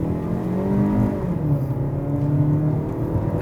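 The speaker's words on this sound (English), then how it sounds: "So now we're ready for another 0 to 100 test with the Vitara Allgrip." A 2021 Suzuki Vitara GLX 1.6L AllGrip crossover with a 6-speed automatic accelerates hard from a standstill, its engine droning steadily and rising in pitch, heard loud from inside the cabin.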